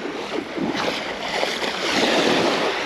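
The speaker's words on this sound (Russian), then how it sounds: "Иду прям по воде." Footsteps splash through shallow sea water at a pebbly Black Sea beach, irregular wet sloshes close to the microphone against surf and buffeting wind noise.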